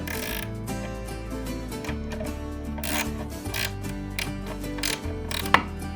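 A ratcheting wrench tightens bolts on a mid-century modern floating console table, with rapid pawl clicking and grinding mechanical rubbing that repeats steadily up close, ending with a sharp clack and no speech.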